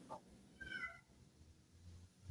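A cat meows once at moderate distance, a short rising-and-falling call over a quiet, slightly noisy room background.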